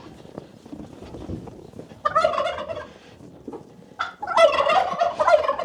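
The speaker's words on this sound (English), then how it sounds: "Got the turkeys all whipped up." Turkeys on a snowy farm gobble in two loud, excited bursts separated by quieter rustling, the calls close and overlapping.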